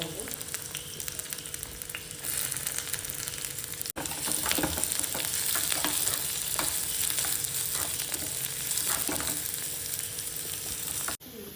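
Red onions fry in hot tempering oil for a Tulu-style basale pundi, giving a steady, moderate sizzle with stirring scrapes, broken by two brief dropouts.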